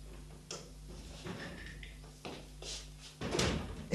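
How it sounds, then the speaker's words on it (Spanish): A door opens and closes in a home with soft knocks and thumps, a latch rattle and a louder bump near the end, quiet and somewhat distant under low background hum. "¿Escuchaste la puerta?"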